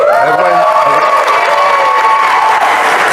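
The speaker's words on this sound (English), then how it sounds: "You all can clap." A loud crowd at a gathering about the Louisiana flood, breaking into sustained clapping mixed with cheering and shouts, dense and close, holding steady for a few seconds.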